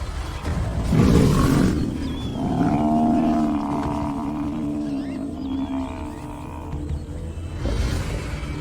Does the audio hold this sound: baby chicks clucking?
no